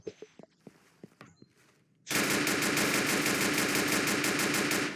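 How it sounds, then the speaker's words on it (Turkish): Gunfire in the video game Emergency Hamburg: after a few quiet taps and footsteps, a sustained, loud, rapid automatic burst takes over and continues without pause. "Ha kolundan vurdum gitti."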